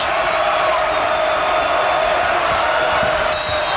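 A packed basketball fieldhouse crowd of about 13,000 roars and applauds continuously and loudly, a dense wall of cheering from start to finish.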